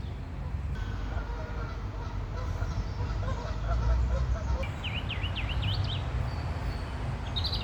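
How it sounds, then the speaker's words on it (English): Ducks and geese honking and quacking by a pond on a late spring day, a continuous chorus of mid-distance calls over steady outdoor wind noise, joined by a brief thin chirping trill near the end. "I love the sound of the happy birds."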